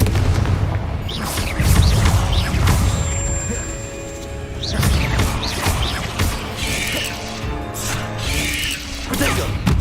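The Confringo blasting spell in Hogwarts Legacy sets off loud, booming explosions that repeat amid a dense clatter of combat effects, with thuds and crashes running continuously throughout.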